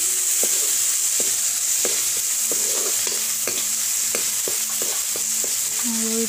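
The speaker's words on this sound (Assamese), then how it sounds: "ৰঙা হোৱালৈকে ভাজি ল'ম।" Onions frying in a wok, a steady loud sizzle broken by repeated scraping strokes of a spatula stirring them, no talking.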